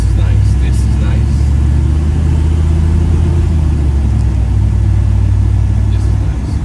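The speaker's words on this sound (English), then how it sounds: "you could hear the motor get happy instantly" A 1952 Chevy engine fitted with Aces fuel injection runs at a steady, smooth idle close by. The deep rumble stays even throughout, and voices can be heard faintly in the background.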